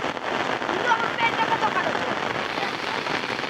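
Rain falls steadily onto the ground and puddles of a village peanut field, an even close hiss with scattered patters, and a voice sounds faintly beneath it.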